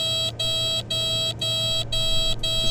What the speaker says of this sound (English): So if you wanted to stop it beeping